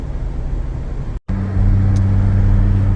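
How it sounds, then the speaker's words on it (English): Traffic moves along snowy two-lane Route 50 near Middleburg, Virginia, heard as a continuous close road rumble with a low engine tone. The sound cuts out for a moment, then returns slightly louder and steadier. "Oh, we've met the traffic."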